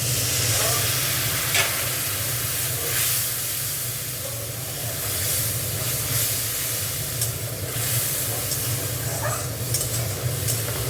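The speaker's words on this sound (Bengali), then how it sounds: "একটু কাশ্মীরি লঙ্কা গুঁড়ো জল দিয়ে কষবো" Spices with Kashmiri chilli powder and a splash of water fry for a cauliflower-potato curry, producing a loud, dense, continuous sizzle and steamy hiss with occasional stirring scrapes close by.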